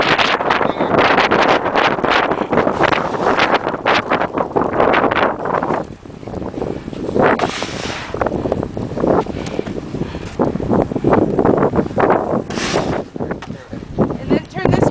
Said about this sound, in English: the wind will be in your face